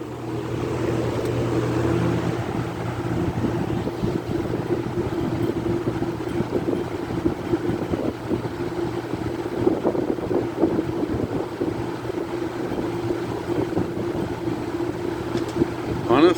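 Two Galaxy box fans running together on high, a steady broadband rush of moving air with a low hum, continuous and fairly loud throughout.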